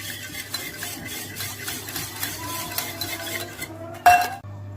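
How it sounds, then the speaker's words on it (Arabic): Oil being stirred into eggs for cake batter, with steady scraping and clinking of a utensil against a bowl, ending in one louder clink. "ورشه ملح وبقلب لحد ما الزيت يدخل كويس مع البيض"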